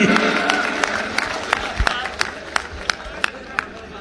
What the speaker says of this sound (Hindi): जोरदार ताली, जोरदार ताली